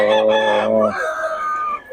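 Rooster crowing with harmonic calls, followed by hen clucking on a street in Barangay Binyan, Bulacan; close and loud, one crow lasting about a second, then steady clucking.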